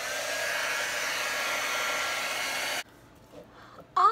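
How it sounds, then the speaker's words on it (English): A heat gun for craft embossing blows with a steady, loud whooshing roar for nearly three seconds, then cuts off abruptly, leaving quiet room noise and a brief faint sound at the end. "I'm going to turn the heat gun on and"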